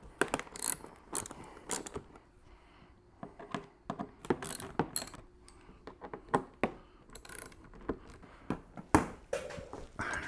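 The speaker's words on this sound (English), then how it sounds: "We're going to use a T25 bit to get these 3 bolts taken off." Three bolts being backed out with a T25 bit driver, a series of quick metallic ratcheting clicks and rattling taps at close range, irregular bursts with brief pauses and no talking.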